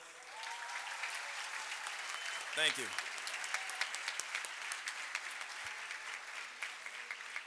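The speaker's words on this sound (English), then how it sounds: "Ladies and gentlemen, a round of applause." Audience applause at a 2022 graduation ceremony at GEMS American Academy Qatar, a steady, moderately distant patter of many hands clapping throughout, briefly interrupted by a short spoken remark near the middle.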